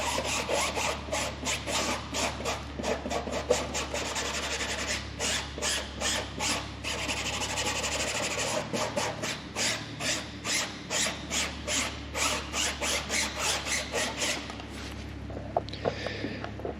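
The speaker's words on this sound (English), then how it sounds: "just brushing in the sealer." Foam brush dragging sealer across the fabric covering of a Sopwith Camel tail, a soft rhythmic rubbing in quick regular strokes, close and steady, with brief pauses and no talking.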